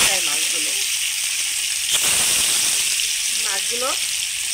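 Marinated chanda fish fry in hot oil with a steady, loud sizzle and hiss that continues throughout, while a person talks over it.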